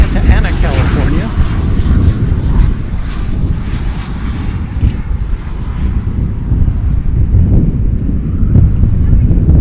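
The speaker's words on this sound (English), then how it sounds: "Here comes a flight from Santa Ana, California." A jet airliner on a flight from Santa Ana, California arrives at Dallas Fort Worth airport, its engines roaring loud and near in a broad, wind-buffeted rush that swells, dips slightly and builds again, with a voice talking over it.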